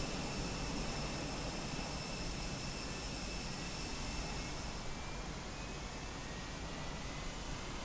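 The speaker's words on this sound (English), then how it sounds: "You can hear the sounds of an engine starting." A steady, roaring jet engine hum of an Airbus A320 starting in Microsoft Flight Simulator fills the whole stretch with a constant high whine above it, unbroken and even in loudness.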